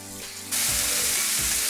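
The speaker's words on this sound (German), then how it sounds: "Und brate jetzt von allen Seiten an." After a quiet hum, a sudden loud sizzle bursts up and holds steady, with soft scraping as sliced turkey pieces are seared on all sides in the pan.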